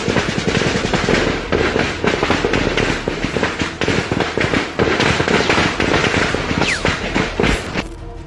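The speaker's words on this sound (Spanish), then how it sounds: "La balacera se extendió por los cerros, con soldados avanzando entre el rebote constante de los disparos." Sustained gunfire from a shootout in the hills, dense bursts of rapid sharp cracks echoing and overlapping continuously, loud and close, with no talk.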